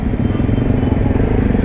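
A motorcycle engine idles with a steady, close rumble as the bike is eased into a cramped parking spot at a service stop, with no pauses in the sound.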